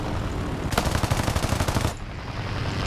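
Aircraft machine gun in the War Thunder arcade mode fires one sustained burst of rapid, evenly spaced shots lasting about a second, loud and close over a steady engine drone, then stops abruptly.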